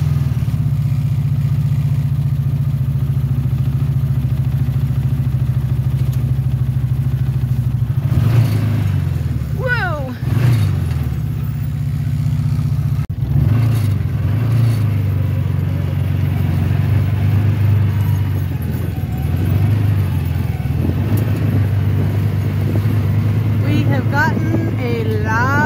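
Small scooter engine runs steadily with a low, droning hum while being ridden through a storm-soaked front field after heavy rain, with brief revving swells and wind rumble.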